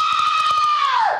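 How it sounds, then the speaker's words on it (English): A single sustained, shrill scream holds steady and piercing for about a second, then bends downward and trails off at the end. "The final scream,"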